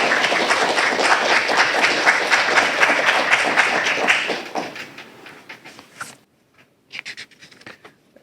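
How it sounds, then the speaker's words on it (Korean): An audience at an academic award ceremony claps steadily for about four seconds, a dense close patter that fades out, followed by a few scattered thumps and handling noises. "신승일 박사님께 큰 박수 부탁드리겠습니다"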